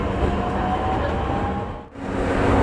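A local electric train on a delayed run around southern Boso, heard from inside: a steady low rumble and rolling noise that briefly dips before swelling again as it gets moving, with no talk.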